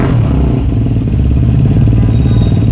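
Yamaha R15M Carbon motorcycle with a fitted aftermarket exhaust revving nearby, a loud, throbbing engine note that swells briefly then holds a steady pulsing idle-to-rev rumble, no speech.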